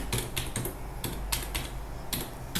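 Fingers tap steadily on a computer keyboard, close and clear, with irregular keystroke clusters over a faint background hum.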